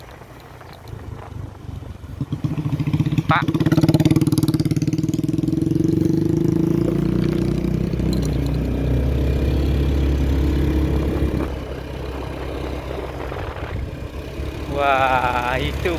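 Motorbike engine passing on a rural hill road, a steady mid-pitched drone that swells loud and close for several seconds, then fades out, with a brief voice near the end.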